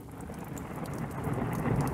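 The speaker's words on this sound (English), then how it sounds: "A storm is brewing." Steady rain pours down with a low, rumbling roar building underneath, like distant thunder in a storm, growing slightly louder toward the end.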